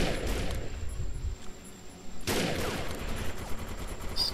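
Rapid gunfire in the shooter game Defiance, with bursts of shots crackling in a dense run, a short lull, then another heavy volley with scattered reports and no talk.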